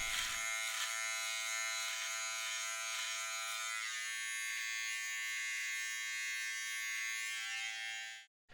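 A Wahl beard clipper fitted with a guide comb buzzes steadily at close range while fading a beard, its high electric hum shifting in tone partway through before cutting off at the end.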